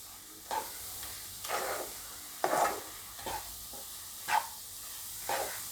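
Crumbled bajra rotla gets stirred and mixed in a pan over low heat, with about six distinct scraping, rustling strokes against a faint background hiss.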